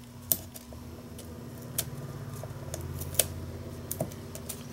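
Scissors snip through a paper card for a handmade Stampin' Up! thank-you card, a few sharp close cuts spaced irregularly over quiet background with no talking.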